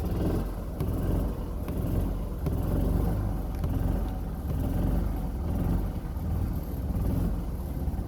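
An old engine idles roughly just after a cold start, a low uneven rumble with slight periodic surges, steady and moderately close throughout with no talk.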